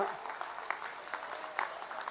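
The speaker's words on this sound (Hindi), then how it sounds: "तालियां बजती रहनी चाहिए आपकी 10 सेकंड तक" Audience applause at a Hindi kavi sammelan poetry recital in Bithoor, Kanpur: a steady wash of crowd clapping, fairly distant and soft, with scattered louder claps and some voices mixed in.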